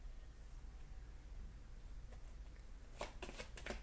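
Tarot cards are shuffled quietly. There is soft background hiss at first, then a few brief, faint riffles and flutters of the cards near the end.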